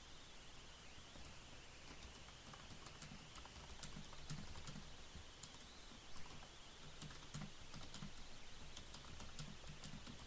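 Light, steady typing on a computer keyboard, soft scattered key clicks running for about ten seconds over a faint background hiss.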